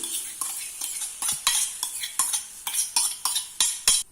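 Egg mixture for a pizza-style omelette with carrot, beans, tomato, onion, green chilli, curry leaves and coriander cooking in a pan, with a bright hiss under about ten sharp, regular spatula scrapes and taps; close, no talking.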